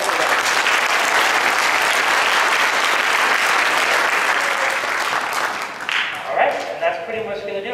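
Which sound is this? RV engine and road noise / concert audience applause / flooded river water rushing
concert audience applause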